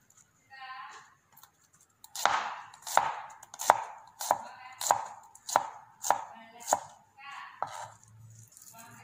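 Banana flower is chopped into small pieces on a board, about nine sharp, evenly spaced knife chops ringing out close and loud after a few softer lead-in sounds, with faint speech beneath.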